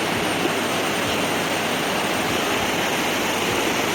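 A constant, loud roar of rushing water fills everything, steady and unbroken, like a waterfall heard from nearby.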